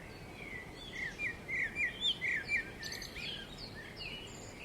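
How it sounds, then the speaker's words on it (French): Birds singing outdoors in a calm landscape, a clear repeated series of bright chirping notes at moderate distance, followed by softer scattered tweets over a quiet background. "peut-être le chant des oiseaux"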